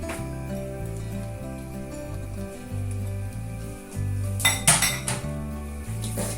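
A spoon stirs grated cheese into cooked risotto in a pan, scraping and clinking against the metal over a steady low hum, with a brief louder rattle partway through.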